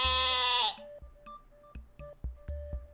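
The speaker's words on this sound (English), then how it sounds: "Goat." A goat bleats once, a loud wavering cry lasting under a second, followed by a sparse pattern of light thumps and clicks.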